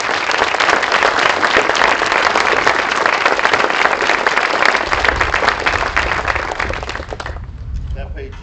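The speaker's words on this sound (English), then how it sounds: "Let's give all of them a round of applause and a thank you." Sustained applause from a large audience at a ribbon cutting for a new middle school, loud and dense throughout before tapering off near the end.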